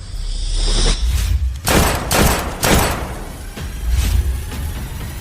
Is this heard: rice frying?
no